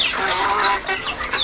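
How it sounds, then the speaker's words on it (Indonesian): Many young two-month-old native village chickens clucking and chattering together at close range, a dense, continuous flock noise. "Ini ayam usia 2 bulan"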